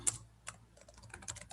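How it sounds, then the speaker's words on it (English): Quiet, irregular clicking of fingers typing on a laptop keyboard, a quick scatter of soft keystrokes at close range in a still room. "I'm typing"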